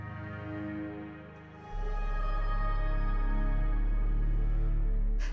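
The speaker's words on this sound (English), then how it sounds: "the left cello comes in along with the sub bass after that" Layered, sustained strings led by cello play a slow, dark passage; a deep, steady sub bass swells in partway through and holds loud to the end.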